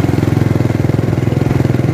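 A motorcycle engine sputtering as it runs out of gas, loud and close, with a rapid regular pulsing throb that holds steady throughout and no talking.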